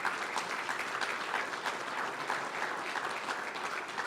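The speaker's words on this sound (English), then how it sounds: "If you don't mind, give a big round of applause for Coach Wooten." A room full of people applauds for a sports coach at a speaking event, a dense, steady clapping that continues without a break.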